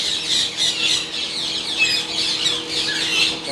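Large black-winged parrots in an aviary squawk continuously, harsh shrill calls overlapping close by and loud, with no talk over them.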